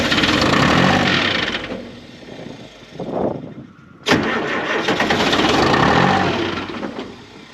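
An engine cranks and catches at a wood boiler and towing worksite, with a loud sustained start, a dip as it winds down, then a sharp restart into a steady running roar.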